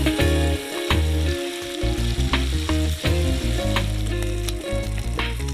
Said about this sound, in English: Step 1, we're frying up some bacon.